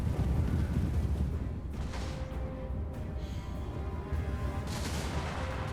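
Musket volleys and artillery fire in the Total War Warhammer battle game with Empire forces in the field, a dense, continuous rumble of distant booms and crackling shots layered over one another, steady and loud for the whole stretch.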